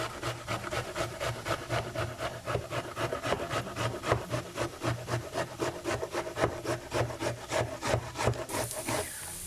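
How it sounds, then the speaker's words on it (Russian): Half a zucchini scraped rhythmically across a coarse grater, a long run of quick, close rasping strokes at an even pace, with no talk. "Вот так от половинку отрезаю и просто натираю его на крупной терочке."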